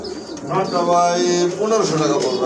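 Running-breed pigeons coo in low, throaty, repeated calls close by, with faint voices in the background.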